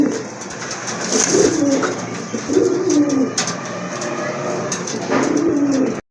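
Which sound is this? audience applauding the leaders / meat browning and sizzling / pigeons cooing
pigeons cooing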